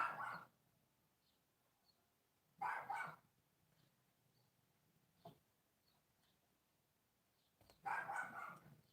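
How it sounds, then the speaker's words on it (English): Several dogs bark outside in three separate bursts spread over about nine seconds, with a faint single yip between them. The barks sound somewhat distant against a quiet room. "Too many dogs outside."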